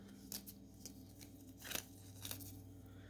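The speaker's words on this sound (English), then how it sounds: "another little thread sticking out there. I'm just going to snip that" Scissors snip a loose thread, a few quiet, crisp cuts spread across a few seconds, faint and close in a quiet room.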